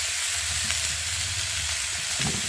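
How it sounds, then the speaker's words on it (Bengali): Turmeric, chilli powder, ginger paste and cumin paste fry steadily in oil in a pan, a dense continuous sizzle with low rumbling stir noise underneath, close and unbroken throughout. "দিয়ে ভালো করে কষিয়ে নেব।"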